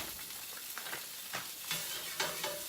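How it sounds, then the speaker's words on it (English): Meatballs searing in a hot frying pan: a constant sizzle punctuated by several sharp scrapes and bursts as they are turned, fairly close and moderately loud. "So I'm gonna go ahead and sear these."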